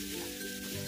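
Mixed vegetables for momo stuffing fry together over a high flame, giving a steady, close sizzle that holds evenly through the moment.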